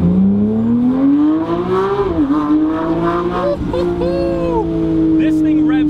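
Porsche 911 GT3 engine revving, a loud, high-pitched rising wail that dips and climbs again, with a person talking over it.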